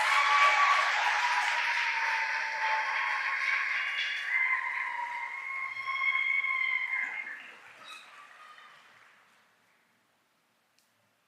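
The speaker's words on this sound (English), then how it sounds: "Can we give them a round of applause?" Applause for a university's graduating class at a recognition ceremony, a large crowd clapping strongly and steadily, then gradually thinning and fading out to near silence.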